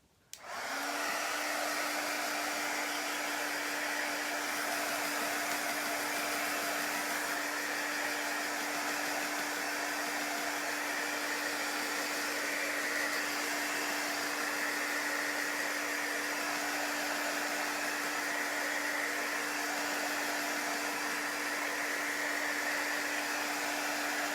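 A hair dryer switches on and runs continuously, blowing air to dry chalk paste on a pumpkin cut-out; a steady, loud whooshing roar with a constant motor hum, unchanging from start to finish.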